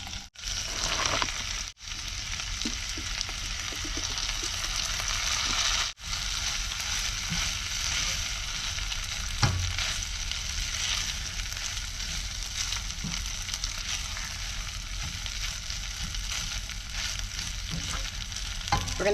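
Rice sizzles steadily in a hot pan after being added and seasoned, a continuous close frying hiss with occasional stirring clatter and a few sharp knocks.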